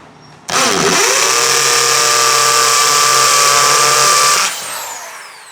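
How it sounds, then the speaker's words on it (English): A hammer drill bores into a kitchen wall to make a hole for floating-shelf anchors, giving a loud, steady grinding whine that runs for about four seconds before cutting off. "Here I go with my hammer drill."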